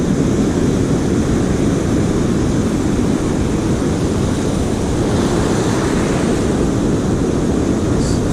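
Continuous rushing wash of waves breaking in the surf off a Norfolk beach at Sea Palling, with a rumble of wind noise throughout and no talking.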